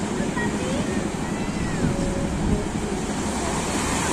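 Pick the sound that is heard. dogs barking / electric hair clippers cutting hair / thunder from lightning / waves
waves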